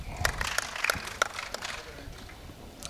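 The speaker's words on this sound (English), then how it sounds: "A smattering of applause from the appreciative crowd." A sparse smattering of claps from a lawn bowls crowd at a club champion finals, a few scattered hand claps close together at first that thin out to quiet.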